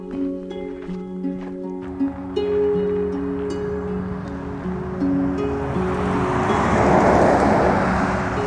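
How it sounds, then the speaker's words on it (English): A truck approaching along an open night-time road, its engine and tire roar building steadily from faint to loud as it nears, with a sustained musical tone underneath early on. "Oh, there's a truck coming."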